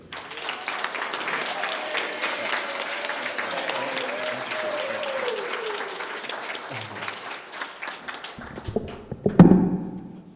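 An audience at Morgan State University applauds steadily to welcome Professor Dale Green, a dense, even wash of clapping that lasts several seconds before fading into a few thumps and taps near the end.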